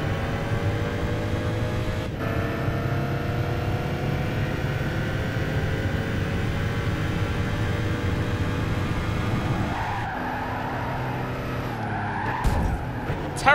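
A Ferrari 512 BB racing on the Rome City course in Gran Turismo 5, a steady loud engine drone with rising gear pitches, tire squeal and a sudden skid and knock toward the end.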